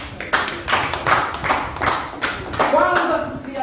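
A church congregation claps hands in praise during a sermon, a run of sharp, fairly loud claps with voices mixed in.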